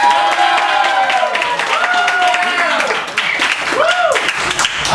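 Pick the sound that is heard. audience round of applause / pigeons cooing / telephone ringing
audience round of applause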